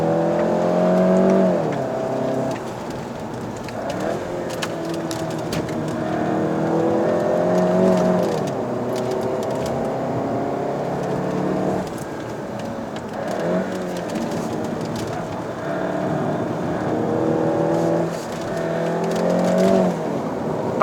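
A VW Golf GTI MK7.5 Performance Pack driven hard on a road, its engine revving up through the gears in repeated rising pulls with brief drops at shifts, heard loud from inside the cabin.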